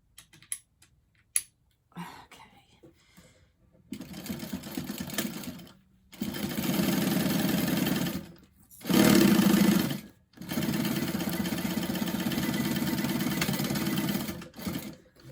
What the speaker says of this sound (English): I'm going to stitch with about a 1/2 inch seam allowance